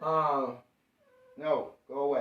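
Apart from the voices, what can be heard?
cat meowing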